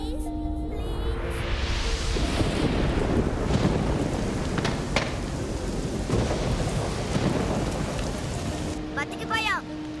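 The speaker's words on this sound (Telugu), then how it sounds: "వర్షం వల్ల మంటలు ఆరిపోతాయి." Thunder rolls and heavy rain pour in a dubbed animated film, a loud, continuous storm roar with crackling peaks and rumbles, and no voices heard.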